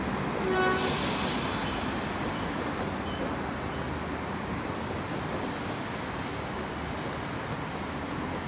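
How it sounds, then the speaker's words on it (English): Train H31 pulls out of Adamstown station on a Sydney Central service. A steady, loud rolling rumble fills the whole stretch, with a brief high wheel squeal near the start. "Right now we have H31 departing for a Sydney Central service."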